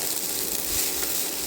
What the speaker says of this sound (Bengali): তারপরে মশলার সঙ্গে পাস্তাটাকেও খুব ভালোভাবে মিশিয়ে নিলাম